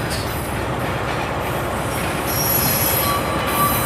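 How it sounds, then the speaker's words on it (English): A Pacer diesel train, units 143611 and 153361, rolls into a platform at Exeter St Davids with loud, steady wheel squeal over a low engine rumble, with a few thin high-pitched screeches near the end. "it's a sound of an incoming pacer"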